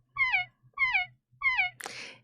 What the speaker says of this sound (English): So we found a kitten sound. We pitch adjusted it to be middle C.